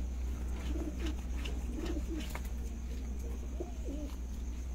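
An old pigeon gives several soft, repeated coos at close range over a steady low background hum.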